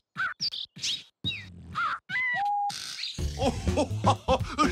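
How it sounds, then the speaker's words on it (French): Cartoon birds with colorful beaks chirp and whistle in quick, varied calls, including a rising whistle and a held tone, then a rhythmic run of beatbox-like chirps with low thumps beneath, close and clear. "Des oiseaux au bec coloré qui font du beatbox."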